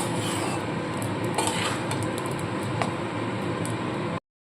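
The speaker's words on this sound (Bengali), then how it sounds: "চাল ডালটা আগে ভেজে নিই মশলার সাথে" Rice and lentils frying with spices in a pot for a cauliflower and pea masoor dal khichuri, a steady dense sizzle with a few scraping clinks of a spoon against the metal, close and continuous until it cuts off abruptly near the end.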